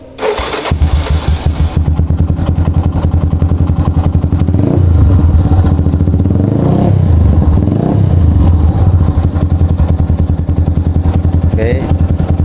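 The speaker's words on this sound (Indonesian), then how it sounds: "suara mesinnya, kita dengerin ya." Modified Yamaha Scorpio scrambler-style motorcycle running in a residential area, the engine starting and settling into a loud, close, throbbing idle with a deep, booming exhaust note and brief rises in revs.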